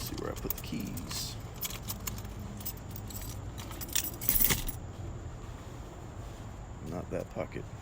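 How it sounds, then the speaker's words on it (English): Car keys jangle in a pocket while searching for them beside a clean-engined 1993 Mitsubishi Strada turbo diesel pickup; a brief, bright rattling burst stands out around the middle over steady outdoor background noise. "Let's see where I put the keys."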